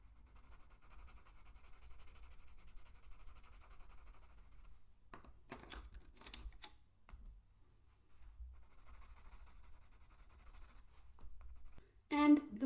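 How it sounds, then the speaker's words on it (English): Watercolor pencils scratch lightly across paper in a quiet, steady scribble, with a few louder handling knocks midway and a sharper clatter near the end. "You can layer colors on top of one another in order to create shadow or different hues"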